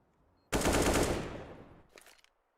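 A burst of AK rifle fire in Counter-Strike: Global Offensive during a pro match on Nuke, one loud sustained volley that quickly tails off, followed by a few fainter scattered shots.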